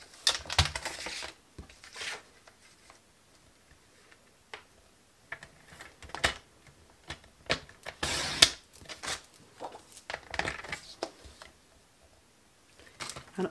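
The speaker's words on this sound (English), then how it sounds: "I'm going to grab my trimmer" Sharp clicks and snaps of a paper trimmer slicing cardstock at a craft table, scattered in short bursts with one louder cutting stroke midway, no voices.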